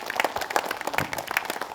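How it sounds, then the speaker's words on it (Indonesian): An audience at a children's televised preaching competition claps for the young participants, a brief burst of moderately loud, uneven applause. "Tepuk tangan semuanya untuk anak-anak kita."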